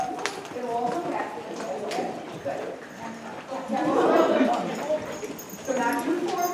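Horse hooves clip-clop over ground poles during a jumping lesson, a steady rhythmic trot close by, with people talking throughout.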